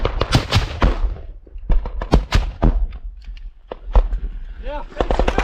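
Sharp explosive bangs and gunfire crack through combat footage, a fast irregular series of loud impacts with shouted voices between them.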